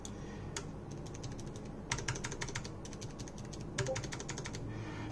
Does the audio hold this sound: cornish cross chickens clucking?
no